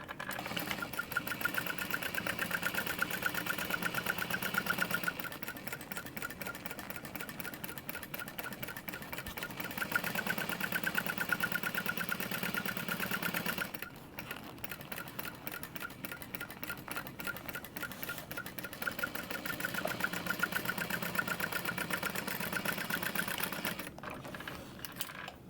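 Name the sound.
sewing machine stitching a second row on a bag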